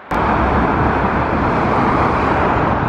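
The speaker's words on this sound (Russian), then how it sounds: "Машины мчатся." Cars speeding along a highway below a bridge, a loud, continuous roar of passing traffic that starts abruptly and holds steady throughout, with no voices.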